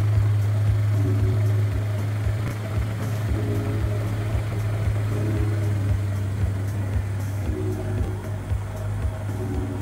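A Suzuki Let's 4 scooter engine runs at a steady idle after being kickstarted, a constant low drone with a fine, even pulse throughout and no talking.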